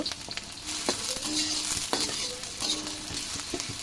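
Raw onions and green chillies fry in hot oil in a pot for chicken gravy, with a steady sizzle under repeated scraping stirs of a spoon at close range.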